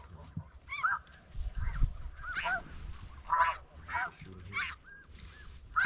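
A large flock of snow geese honks over Saskatchewan during a hunt, loud and close, with overlapping calls repeating in quick bursts and no talk.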